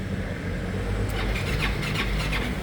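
A motorcycle on a jump starter failing to start, a steady loud mechanical whir and rumble with faint squealing pulses that never catches into a running idle, no talking.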